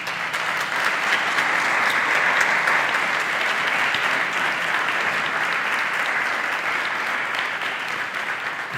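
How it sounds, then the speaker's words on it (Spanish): Sustained applause from a church congregation during a Spanish-language sermon, dense and steady, filling the whole stretch at full strength without a break. "Le damos un aplauso a Él"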